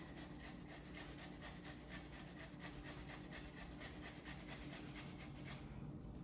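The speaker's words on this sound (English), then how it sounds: "I'm just going to grate a little fresh ginger in." Fresh ginger being grated over brown sugar in a dish for an air fryer meal, giving steady, close rhythmic rasping strokes that repeat evenly throughout with no talk.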